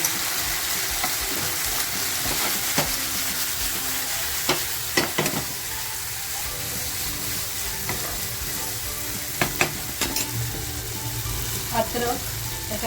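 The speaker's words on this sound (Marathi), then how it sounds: "आता ज्या मापल्या फ्राय करून घेतल्यात ना त्या टाक" Fried squid tossed in a pan with soy sauce while cooking Squid 65, a loud continuous sizzle broken by sharp clanks and scrapes of a spatula against the pan.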